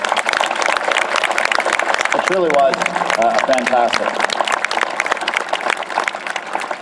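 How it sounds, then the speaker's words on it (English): Ceremony audience at a 2018 CTC Blackdown sunset ceremony claps in a dense, sustained round of applause throughout, with a voice speaking over it. "let's just give one quick round of applause for the fantastic show that we've seen here tonight"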